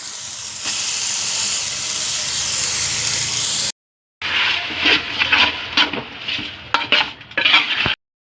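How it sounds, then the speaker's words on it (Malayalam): Tomatoes go into a spicy chicken gravy frying in a pan. Steady sizzling and hissing is followed by scraping and clattering as a spoon stirs the mixture, with brief knocks against the pan. "തക്കാളി ചേർത്ത് കൊടുക്കാം."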